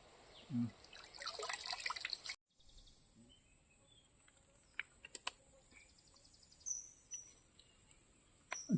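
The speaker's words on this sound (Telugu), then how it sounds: "ప్రతి ఒక్క చెట్టు వేరు నుంచి ఈ యొక్క నీరు అనేది పారుతూ ఉంటుంది" A faint, steady trickle of water with soft drips, outdoors, with insects chirping in the background and a brief rustle early on.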